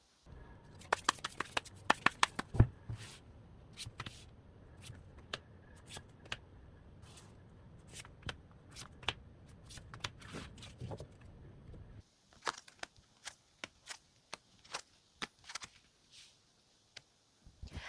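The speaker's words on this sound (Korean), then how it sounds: "상대방이 이제 거기에 맞게 어떻게 행동할지에 대해서 추가 카드를 한 번 더 뽑아보도록 할게요." Tarot cards being shuffled and handled during a reading, a series of quick crisp riffles and snaps near the start, then scattered soft card flicks and taps at close range.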